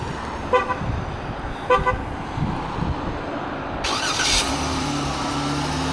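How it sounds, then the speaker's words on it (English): A Dodge Durango Limited is started by its remote key fob: two short horn toots come first, then the engine turns over and settles into a steady, close idle hum. "one of the features it has here on the key is a remote start, so I'm going to go ahead and start it up."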